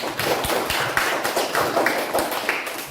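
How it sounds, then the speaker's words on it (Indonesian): Classroom applause from students for a group's presentation, a dense patter of many hands clapping steadily for about three seconds, fairly close and without talk. "Kita berikan dulu hasil tanggapan dari kelompok 2. Tepuk tangan."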